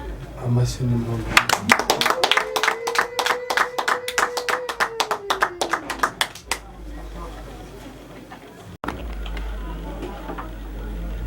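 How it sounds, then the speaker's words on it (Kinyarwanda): A crowd at a Rwandan gutwikurura wedding ceremony breaks into fast rhythmic clapping while a sustained high ululation rises and holds over it, then the clapping stops and voices and room noise continue. "amashyi n'impundu"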